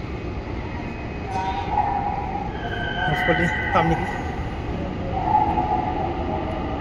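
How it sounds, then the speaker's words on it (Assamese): A metro train stands at a station platform, giving a steady mechanical hum with faint higher whines and tones while a person talks throughout over the background. "অলৰেডি ইয়াতো ট্ৰেইন লাগি আছে এইটো চকেট অলৰেডি ট্ৰেইনটো লাগি আছে"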